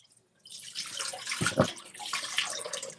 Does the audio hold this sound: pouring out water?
yes